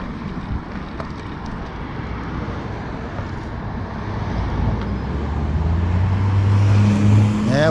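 Traffic on a road heard during a recumbent bike ride, with a steady rumble of cars and wind buffeting the microphone, and a vehicle drawing closer and louder toward the end.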